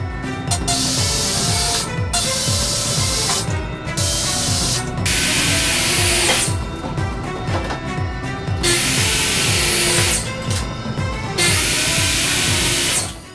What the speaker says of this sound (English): drilled a couple of holes, and reused the screws that we got